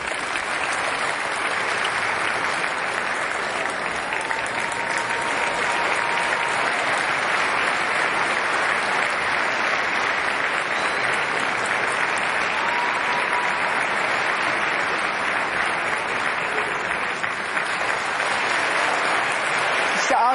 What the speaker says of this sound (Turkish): Alkış almak böyle bir şey demek ki.